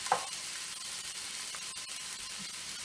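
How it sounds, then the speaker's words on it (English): Chickpeas drop into oil in a hot pan and sizzle softly and steadily, a faint, even frying hiss with a small clatter at the start. "I already have a pan on heat, so I'm going to add the chickpeas to this"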